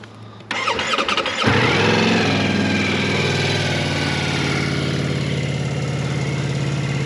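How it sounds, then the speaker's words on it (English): A 2022 Ducati Multistrada V4 motorcycle engine cranks, catches with a few sputters and revs, then settles into a steady, throbbing idle close by. "Now, if I turn on the motorcycle,"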